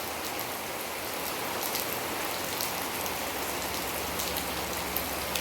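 Steady rain falling on a surface outside a house in Phatthalung, southern Thailand, a dense even patter with occasional louder drops, no voices.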